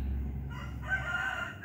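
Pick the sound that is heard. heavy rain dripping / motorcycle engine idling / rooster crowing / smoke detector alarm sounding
rooster crowing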